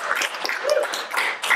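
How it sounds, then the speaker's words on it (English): Audience applause at a spoken word night in the Willow Coffeehouse and Music Room, a steady wash of clapping that runs the whole moment without a break, fairly close and even in level. "just give them another applause"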